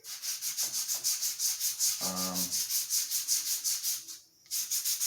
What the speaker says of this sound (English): So right now I'm literally just taking 220 across the top of this. I know that's really loud